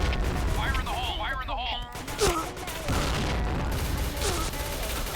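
In the online shooter game Point Blank, repeated gunshots and booming explosions crack out in bursts, while someone talks excitedly over the battle.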